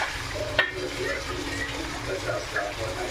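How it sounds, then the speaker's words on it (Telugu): Liver fries with masala paste in a pan, making a continuous close sizzle under a voice, with a sharp scrape or clink of the spoon early on and steady stirring throughout. "చూడండి, లివర్ అయితే కొద్దిగా వేగింది"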